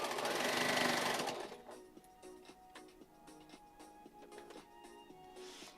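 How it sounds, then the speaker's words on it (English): A sewing machine running during a live stream, rapid mechanical stitching clatter with a steady repetitive rhythm, loud at first then continuing as fast ticking pulses close by. "Do you know how to use a sewing machine, Aria?"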